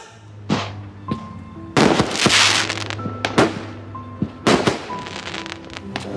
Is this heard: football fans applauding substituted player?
no